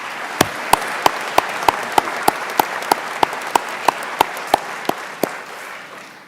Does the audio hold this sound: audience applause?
yes